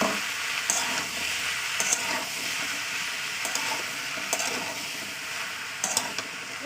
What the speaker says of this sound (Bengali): করলা আছে, পটল আলু আর ঢ্যাঁড়স একসঙ্গে সুন্দর করে ভাজা করে দেবো